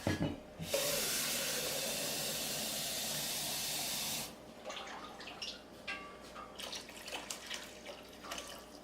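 Water is poured into a pot of simmering homemade marinara sauce, a loud steady hissing rush for about four seconds, then fading into softer crackling, bubbling and dripping sounds.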